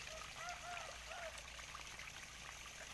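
Water is being changed in a catfish tank, a faint, continuous trickle and gentle flow heard from a distance. It stays steady throughout, with no talking.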